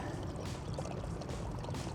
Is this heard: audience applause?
no